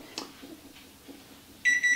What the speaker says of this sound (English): And let me turn the timer off.